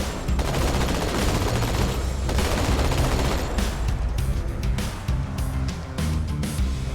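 Dense, continuous gunfire in the video game Halo 2, loud rapid bursts of shots layered with engine rumble and explosions, filling the whole stretch without speech.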